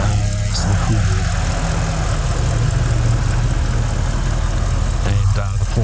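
A 2013 Porsche Cayenne Turbo's V8 idles with a steady, loud low rumble that holds unchanged throughout, while a voice talks briefly near the start and again near the end.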